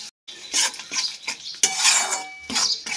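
A spoon scrapes and clanks against a pan as rui fish masala with mustard, poppy seed and coconut paste, salt and turmeric is stirred. The bursts are close and irregular, with short gaps between them and no talk.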